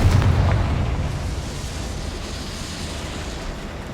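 A Confringo explosion spell goes off in Hogwarts Legacy on PS5. A deep, broad blast is loudest at the start and trails off into a long, rumbling decay.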